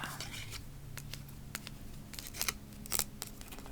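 Scissors snip through paper in a quiet, close ASMR setting, with several crisp cuts and soft rustling under a low steady hum.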